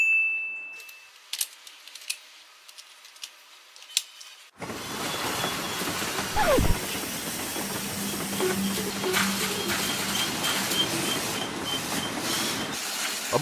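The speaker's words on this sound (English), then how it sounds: "the train powers through and reaches the top" A LEGO train hauls cars loaded with 240 grams of wood up an incline. Near silence gives way to a steady rolling rumble and hiss from the track, with a few clicks and a brief hiccup midway.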